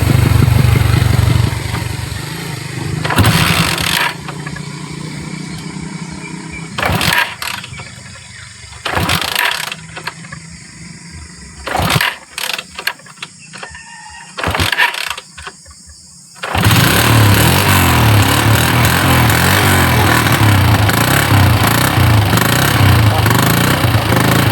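A motorcycle engine cranks in bursts with gaps of near silence between the attempts, then catches and runs loud and steady to the end, with people talking in the background.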